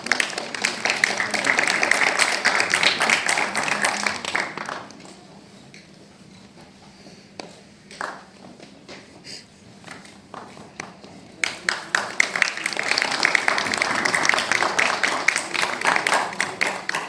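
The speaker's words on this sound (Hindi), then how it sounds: "जोरदार तालियां हो जाए।" Audience applause at an award ceremony, a strong burst of clapping that fades into a quieter stretch of scattered claps and talk, then swells again into full applause near the end.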